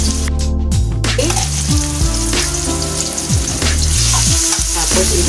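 Beef strips sautéing with onion in a hot pan, a loud continuous sizzle and crackle close by, with stirring and background music layered over it.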